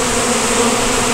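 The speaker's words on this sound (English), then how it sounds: "Bees in a trash can." Bees that have built a hive inside a trash can buzz in a loud, close, continuous drone throughout the short moment.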